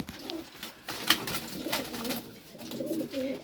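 Frightened Pakistani pigeons coo softly in short, rolling bursts, fairly faint and close, with scattered rustling between the calls.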